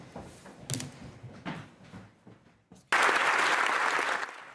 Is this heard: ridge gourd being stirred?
no